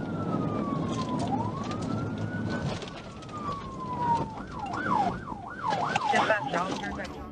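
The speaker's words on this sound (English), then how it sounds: "the trooper quickly got back to his car and turned on his emergency lights and siren" A state trooper's police car siren wails in long rising and falling sweeps, then switches to a fast yelp, loud over road noise and engine rumble during a pursuit of a fleeing truck.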